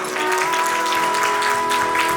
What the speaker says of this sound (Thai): ขอเสียง ปรบมือต้อนรับคุณพ่อและคุณแม่ด้วยค่ะ